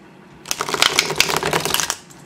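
A deck of cards is shuffled, a dense riffling flutter that builds for about a second and a half and then stops, close and fairly loud.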